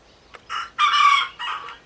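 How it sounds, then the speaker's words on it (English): A rooster crows nearby on a rural property heard from a porch, a loud multi-syllable call broken into three bursts after a brief faint cluck, with a quiet background and no talk. "You heard the rooster just now."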